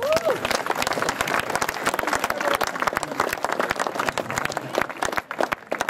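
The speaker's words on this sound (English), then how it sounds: "So a round of applause for Geoff." Crowd applause at a cricket club's grand opening event, dense steady clapping with sharp individual claps standing out, sustained and fairly loud throughout, with a brief voice or cheer near the start.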